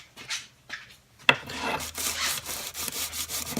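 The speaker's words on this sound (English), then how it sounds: "I like to use a Panzer file or a body file" A steel Panzer or body file rasps across the edge of a plastic ski wax scraper in a series of uneven, close strokes with short pauses, a sharp knock near the start, and no talking.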